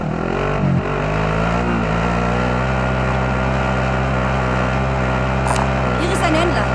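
A vehicle engine drones steadily while driving in Call of Duty Warzone, a loud continuous hum running the whole time, with brief game effects near the end.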